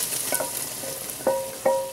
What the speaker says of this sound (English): Alright, we're gonna put the bacon in.